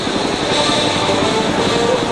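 Chinook helicopter at an air base open house in Singapore, a loud continuous rotor and engine roar close by, steady throughout with no clear pauses.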